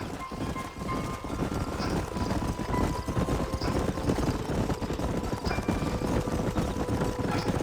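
Horses' hooves clip-clop steadily at a riding pace in the Red Dead Redemption video game, a dense rhythmic patter of several horses moving together, with faint ambient game noise underneath and no talk.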